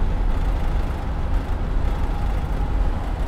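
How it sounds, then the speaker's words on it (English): Low, dense rumbling buffets the microphone continuously, a steady roar of wind noise with no voices. "Let's wait for this windy part to get over."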